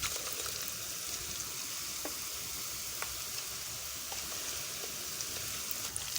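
Boondi batter of besan sizzles steadily in hot oil on a low flame, a dense continuous crackle with scattered sharp pops, close and fairly quiet with no voices.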